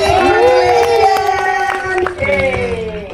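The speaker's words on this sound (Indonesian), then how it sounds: "Tepuk tangan dong sekali lagi." An audience cheers and applauds at a film event, loud excited high-pitched shouts and whoops over a clatter of clapping that swells and then eases slightly.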